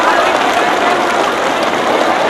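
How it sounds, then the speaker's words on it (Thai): A crowd at a political rally for the Thai prime minister applauds steadily, a dense, continuous wash of clapping that holds at an even, loud level throughout. "ปรบมือดังๆครับพี่น้อง"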